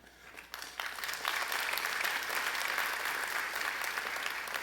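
A commencement audience breaks into sustained applause, building quickly after a brief pause and holding a full, even roar of clapping from a large crowd.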